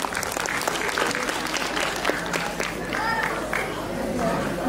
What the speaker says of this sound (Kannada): ಹಾಡನ್ನು ಹಾಡಿದ ಸುರಭಿ ಮತ್ತು ಸಹನರಿಗೆ ಚಪ್ಪಾಳೆ